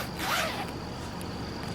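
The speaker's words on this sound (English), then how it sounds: "Yeah, double Riri zipper." A double Riri zipper on an aged, distressed Champion hoodie is drawn open in one quick close rasp, a single short zipping pass that fades into a quiet room with no voices.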